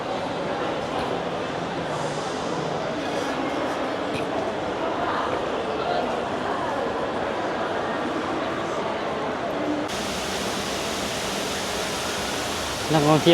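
Steady broadband rush of an indoor waterfall inside a busy shopping mall, constant and enveloping for the whole stretch, with a faint crowd murmur blended underneath.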